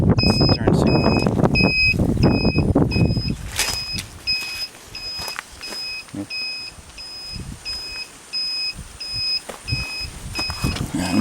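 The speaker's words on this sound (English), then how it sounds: "The turn signal actually does work off the battery, so you see that's the turn signal." Turn signal on a Coolster mini jeep running off the battery, heard as a steady series of short, evenly spaced electronic beeps, about two per second, continuing for several seconds after an initial burst of louder handling noise.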